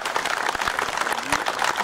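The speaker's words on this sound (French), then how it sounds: "c'est André Bresson, que je vous demande d'applaudir." An audience claps steadily in applause for André Bresson at a Great War commemoration in Thorame-Basse, a dense, continuous round that stays alone without speech.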